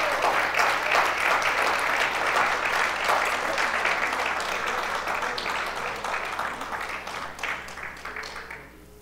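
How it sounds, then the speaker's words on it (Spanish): Loud, dense applause from a church congregation fills the space steadily, a sustained wash of many hands clapping together that slowly thins and fades toward the end. "Si usted quiere darle un fuerte aplauso al Señor,"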